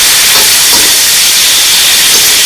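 Onions and vegetables for a shrimp and chicken stir-fry sizzling in a hot pan, a loud, steady, bright hiss with faint crackles, heard alone.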